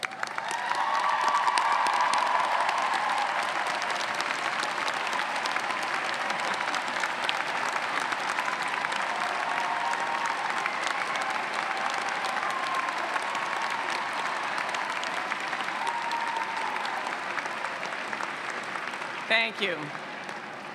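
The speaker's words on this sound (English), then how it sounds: "Would the family members of our graduate students please rise to receive our applause?" A large audience at a graduate commencement ceremony gives sustained, even applause for the graduates' families, dense clapping filling the hall for about twenty seconds, with a brief spoken thanks near the end.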